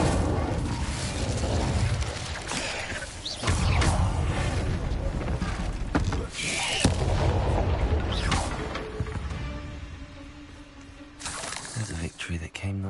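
Spell effects from Confringo and Incendio fire spells boom and crackle in the video game Hogwarts Legacy, with loud, dense bursts of fiery blasts and combat noise continuing throughout, and a player speaking over them.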